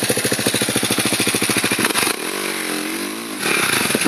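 An enduro dirt bike engine revs hard at full throttle, first as a rapid, even pulsing rasp, then as a smooth, rising and falling high-revving drone, then as a throaty roar, loud and close.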